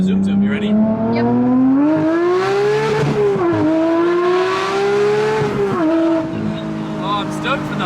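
A modified Porsche 992 GT3 accelerates hard, its engine note climbing loud and close through the gears with brief dips at each shift, with no talk over it.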